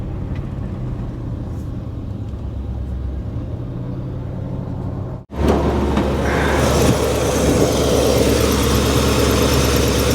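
An old Cadillac engine idles after sitting unused for more than 30 years, a steady low rumble that drops out for a moment midway and returns louder and fuller, with no talking.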